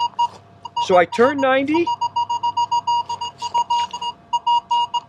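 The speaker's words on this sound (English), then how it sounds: "So here, I've got a target, and I'm getting double beeps." A Minelab X-Terra metal detector sounds a run of short, evenly spaced electronic beeps in repeating pairs over a target; someone speaks briefly just before them.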